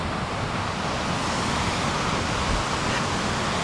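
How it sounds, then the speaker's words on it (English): The Runchet River waterfall in Gorkha District, Nepal, roars as a dense, steady rush of falling water, loud and unbroken throughout with no voices. "It's a spectacular waterfall."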